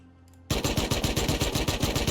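A Tommy gun in the video game Rust fires a sustained rapid-fire burst of even, punchy shots after a brief quiet moment, loud and close.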